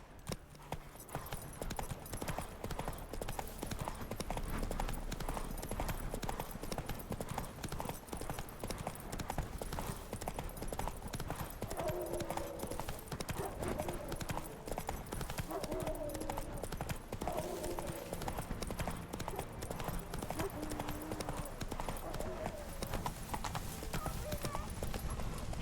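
A horse named Roach galloping in The Witcher 3 video game: a rapid, steady clip-clop of hooves running the whole time, with a brief whinny and someone talking over the hoofbeats.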